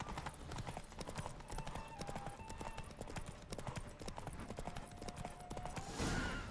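Roach the horse galloping in The Witcher 3, rapid rhythmic hoofbeats pounding steadily under game ambience, ending in a brief louder whoosh.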